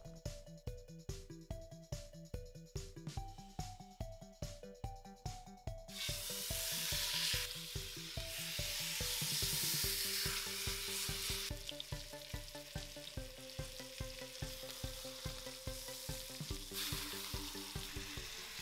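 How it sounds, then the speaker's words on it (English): A roast searing in hot oil in an Instant Pot, with a bright, steady sizzle that rises over rhythmic background music and stays loud to the end. "I'm gonna put the oil in and go ahead and saute this roast."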